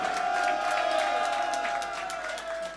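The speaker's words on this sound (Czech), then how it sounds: "Pořádný zatleskejte" A concert crowd applauds and cheers, a dense steady wash of clapping with a sustained tone running underneath, loud and continuous throughout.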